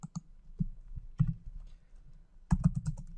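Several bursts of computer keyboard typing while entering code for a new function, clusters of crisp key clicks separated by pauses, close and clear with no talking.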